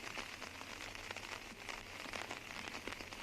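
Steady rain falling outdoors at a disc golf tournament in La Mirada, a continuous dense patter of drops on surfaces, moderately loud and even throughout with no voices.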